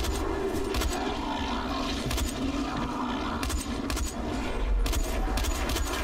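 Gunfire in the zombie game Dying Light: scattered bursts of shots crack through a dense, noisy background, several short volleys spread across the stretch with no talk.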